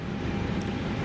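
Airbus A321 engines spool up under added throttle in the MSFS 2024 flight simulator, a steady low rumbling drone that holds evenly through the brief moment with no talk over it.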